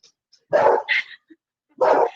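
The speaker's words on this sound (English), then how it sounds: "My dog is going crazy." A pet dog barks indoors in a home kitchen, three sharp, loud barks in quick succession, close by and not covered by talk.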